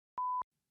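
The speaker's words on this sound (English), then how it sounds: "Gonna have to beep that one out just in case." Single short censor beep, a clean steady tone lasting about a quarter second, alone in silence.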